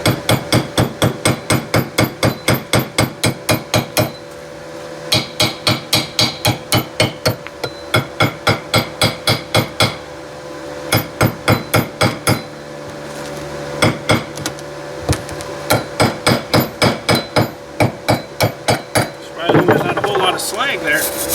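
A hammer chips slag off a MIG weld made with a cheap welder, striking metal in fast, loud, even bursts of blows separated by brief pauses. A voice is heard faintly in places.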